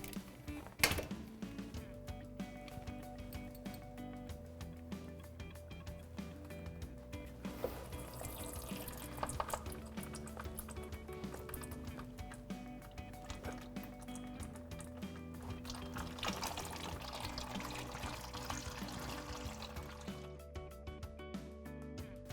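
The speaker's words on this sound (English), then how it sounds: "We'll crack the smaller one, the 10mm free first, let the oil drain out" Engine oil drains from a Can-Am Maverick X3 into a drain pan, making a continuous faint trickle and gurgle with occasional drips, steady for the whole stretch without talk.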